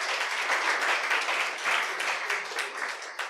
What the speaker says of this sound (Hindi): एक बार उनके लिए तालियां बजा दो आप